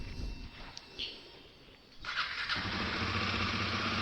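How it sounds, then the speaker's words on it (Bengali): A Royal Enfield Himalayan 450 motorcycle engine fires up about halfway through after a quiet lull, then settles into a steady, close, rumbling idle while warming up. "তো ইঞ্জিনটা গরম হোক, তারপরে আমি গ্যারেজটা ভাগিয়ে নিই।"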